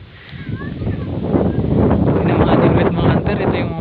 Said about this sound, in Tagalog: May sobrang lakas ng hangin eh.